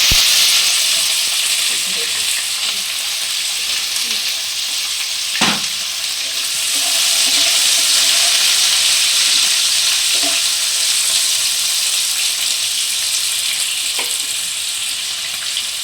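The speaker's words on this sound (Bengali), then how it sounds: "পেঁয়াজ কুচিটা লাল করে ভাজতে হবে নাকি?" Chopped onions fry in a pan over medium heat, giving a steady close sizzle and hiss with occasional clinks of stirring.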